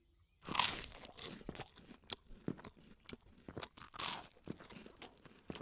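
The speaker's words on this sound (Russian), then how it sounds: "Такой звук чавканья." Wet, crunchy chewing and smacking in the indie horror video game Terrors to Unveil, loud and close, in irregular bursts with a couple of sharper crunches, no talking.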